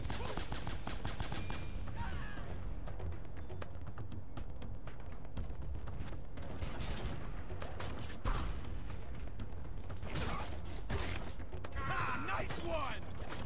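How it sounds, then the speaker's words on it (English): Pistol shots in Bionic Commando (2009) ring out as sharp, repeated bursts over a dense, continuous game soundscape of rumble, creaks and mechanical noise, with a voice talking in places. "I'm sniping with a pistol"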